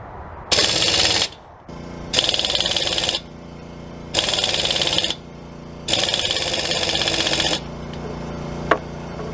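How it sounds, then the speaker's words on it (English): A Harbor Freight 3/8 in air impact wrench hammers in four loud, sustained bursts of rapid rattling with short pauses between, close up and with no talk, trying to loosen fasteners torqued to about 60 foot-pounds. "Many people like to try using the impact to remove stuff."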